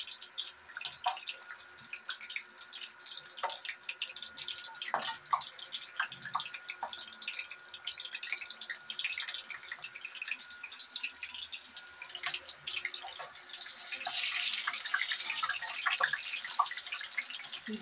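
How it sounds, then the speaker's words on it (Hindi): Water trickling and dripping in a home kitchen while besan mirchi and dahi vada are being made, with steady close splashes and drips that rise to a brighter, fuller splash near the end, and no talking. "मुझे पानी का कैसे छन छन छन छन बोल रहा है"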